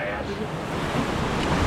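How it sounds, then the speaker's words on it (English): Water rushing and splashing around a raft passing under a waterfall on the Rattlesnake Rapids river raft ride at Lagoon amusement park, a loud continuous roar that swells toward the end. "it's waterfall time"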